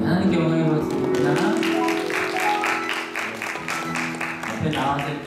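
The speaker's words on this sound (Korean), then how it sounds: "하나님께 영광의 박수입니다." A church congregation at a Sunday service claps to glorify God, a steady run of rhythmic hand claps over a sustained voice or music tone, loud and filling the room.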